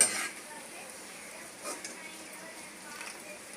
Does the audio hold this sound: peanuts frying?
yes